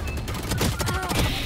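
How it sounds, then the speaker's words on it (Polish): Rapid gunfire in the video game Valorant, a dense burst of repeated shots close up, with a voice talking over it. "Biją, strzelają do mnie."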